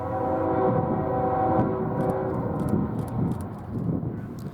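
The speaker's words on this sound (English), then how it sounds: "This westbound manifest train is coming into Cheyenne for a crew swap" A westbound manifest freight train rolls into Cheyenne, Wyoming, its steady low rumble and droning engine tones loud and close, with faint scattered metallic clicks above.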